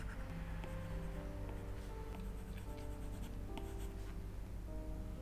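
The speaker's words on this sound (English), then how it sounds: "Let's draw a few more lines." A stylus drawing lines on a tablet screen in Procreate: soft, quiet scratchy strokes running steadily over faint background hiss.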